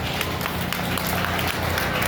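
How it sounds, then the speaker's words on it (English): Applause from the crowd at a 4-H county fair cattle show, a broad, continuous patter of many hands clapping in a large, reverberant space, steady and moderately loud throughout. "So let's give them all another nice big round of applause."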